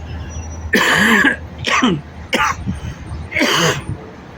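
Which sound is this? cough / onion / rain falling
cough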